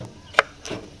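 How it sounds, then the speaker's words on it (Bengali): A kitchen knife chopping tomatoes for chutney, giving two sharp, close chops about a third of a second apart, the first louder and crisper, with no talking. "এখন আমরা চাটনি করার জন্য টমেটোকে কেটে নিচ্ছি"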